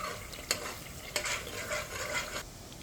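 Coconut cream simmering over a low fire is stirred in a pot, giving a soft continuous bubbling sizzle with a couple of distinct spoon knocks and scrapes.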